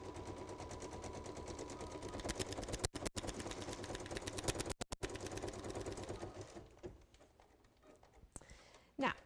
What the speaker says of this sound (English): it's just going to stitch down and then stitch back across